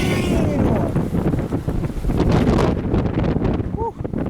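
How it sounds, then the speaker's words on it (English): Strong wind blowing outdoors, a loud, continuous roar buffeting the microphone that surges and eases, with brief talk near the end. "Let's see how strong this wind really is."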